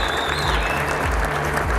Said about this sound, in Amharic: እንደገና በታላቅ ጭብጨባ ልታመሰግኗቸው